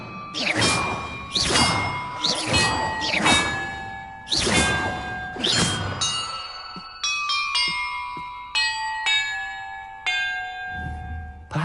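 Bells chiming in the video game Hogwarts Legacy, struck one after another in an irregular sequence; resonant, ringing tones with lingering decay, several heavy strikes followed by a run of brighter, quicker dings, clear and close with no talk.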